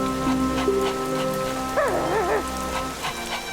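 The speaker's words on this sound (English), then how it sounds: "It's no fun waiting and waiting for the rain to stop" Rain falls steadily in a children's animal cartoon, a continuous patter layered under musical tones and a short dog-like vocal flourish, moderately loud throughout.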